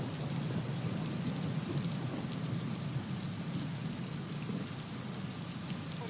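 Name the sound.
heavy rain falling in Pune during flooding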